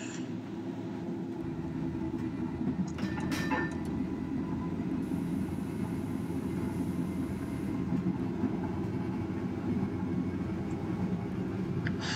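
A Blackpool Balloon double-deck tram runs on the Candlewick route in Train Simulator 2021, giving a steady low rumble and rolling rail noise with faint clanks, continuous and unvoiced throughout.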